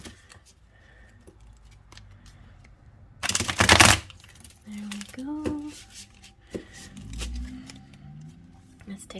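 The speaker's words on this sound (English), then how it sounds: "Let's give it one more good shuffle." A quick burst of tarot cards being riffle-shuffled, brief and close, followed by soft handling noises and a voice speaking briefly.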